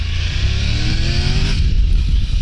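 A 2023 Triumph Tiger 1200 Rally Explorer motorcycle accelerates hard, its engine note climbing steadily in pitch, loud and close with heavy wind rush throughout.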